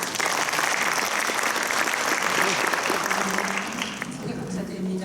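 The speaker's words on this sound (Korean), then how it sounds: "큰 박수 드립니다." An audience at a medical ultrasound lecture gives a guest cardiologist a loud, sustained round of applause that thins out near the end, with a voice starting to speak as the clapping fades.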